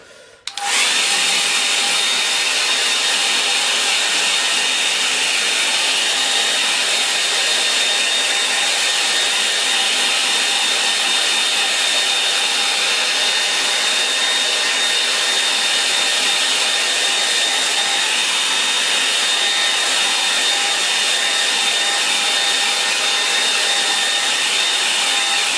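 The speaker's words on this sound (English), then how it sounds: "Alright, I'm going to dry that off now," A hair dryer runs continuously to dry a watercolour snow-scene painting, a steady loud whooshing whine that switches on abruptly and holds at an even level throughout, with no talking.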